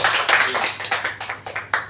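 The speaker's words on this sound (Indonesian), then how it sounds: "Beri tepuk tangan dulu buat Tuhan Yesus." A church congregation claps together in a brief burst of quick, rhythmic hand claps, close and fairly loud, lasting about two seconds with no talking.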